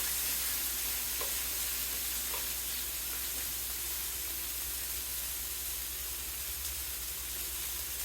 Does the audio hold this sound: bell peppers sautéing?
yes